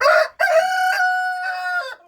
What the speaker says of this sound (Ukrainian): Співає півень і ось курочки.